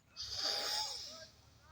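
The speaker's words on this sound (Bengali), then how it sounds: "আপনারা নিঃশ্বাস নেবেন খুব জোরে" One strong, deep breath drawn in through the nose or mouth during a home lung check, heard as a soft, breathy rush that swells and then fades over about a second in a quiet room.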